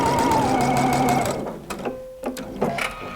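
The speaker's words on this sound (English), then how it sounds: "then I'm going to start stitching." A PFAFF creative icon sewing machine runs a straight stitch with a steady, fast mechanical whirr that slows and stops, followed by a few small clicks and taps, close and loud.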